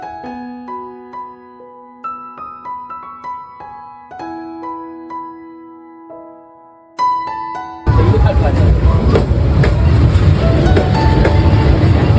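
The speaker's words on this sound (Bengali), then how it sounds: "একদম পাশ দিয়ে একদম ক্লোজ থেকে এই ট্রেনটা পেরোয়" A train passing very close by in Vietnam, a loud broadband roar that starts abruptly after a stretch of tonal music and fills the rest of the clip.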